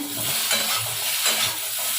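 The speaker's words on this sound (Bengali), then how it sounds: "আলুগুলো একটু ভেজে তুলে নেবো" Potatoes sizzle and crackle as they fry in hot oil, with the scrape of stirring running through the short stretch.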